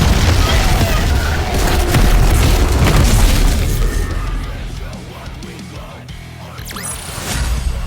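A weapon fires in the NIKKE video game, a heavy, loud booming blast with a rumbling, crackling tail that gradually fades over several seconds.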